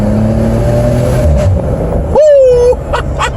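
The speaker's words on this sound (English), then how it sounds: "Here we are on downshift. Listen to that" A 2015 Maserati Ghibli SQ4 engine drones steadily from inside the cabin with the window down, then cuts out briefly and blips sharply on a downshift, the rising rev flaring loud before settling.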